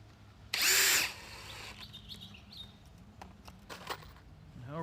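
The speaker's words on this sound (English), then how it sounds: "I'm going to sink some screws in." A power drill drives screws into full-width 2x4 wooden railroad track ties. One short, loud burst of drilling is heard, followed by faint ticks and handling noises.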